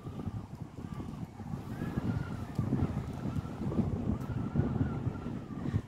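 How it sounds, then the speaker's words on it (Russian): Cold wind blowing along the Pacific coast at Malibu Bluff Park, a low, gusty rumble buffeting the microphone that swells and eases throughout and stays fairly soft. "ветрено, однако, и ветер довольно холодный."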